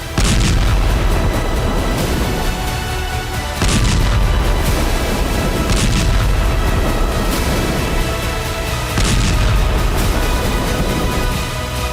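Israeli army tank and artillery bombardment in Gaza: four heavy booms spaced a few seconds apart, each with a sharp crack and a long rumbling tail, loud and continuous.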